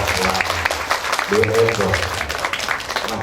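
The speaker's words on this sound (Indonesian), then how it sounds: "Tepuk tangan untuk Ananda Atiko" Audience applause for a child named Ananda Atiko at a TPQ Quran-school graduation exam in Jember, a short burst of crowd clapping with voices talking over it partway through.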